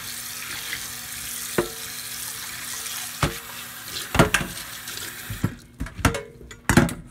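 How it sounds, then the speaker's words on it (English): Running water splashes and rinses an uncoated frying pan in a sink, with a few sharp clanks and scrapes of the pan being handled, getting busier toward the end. "We're going to rinse it off."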